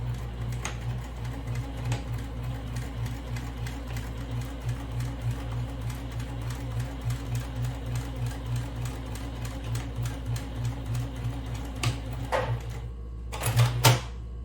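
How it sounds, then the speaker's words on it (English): A sewing machine stitches fabric for a small mini purse, a steady rapid mechanical whir with dense repetitive clicking running close and continuous, then a few brief louder knocks near the end. "I'm here in the sewing machine, and I'm going to start to sew"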